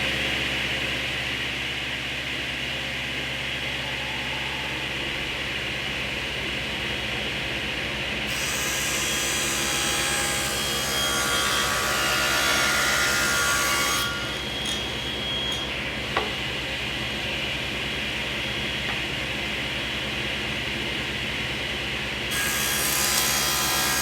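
Wood pieces being cut on a saw, a steady loud whine with the pitch shifting as each cut bites in, several passes in succession with the motor running continuously between them.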